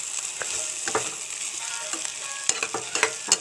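Bottle gourd peel and baby potatoes stir-frying in an uncovered pan give a steady close sizzle, broken by sharp scraping and clacking stirs near the end; nobody talks.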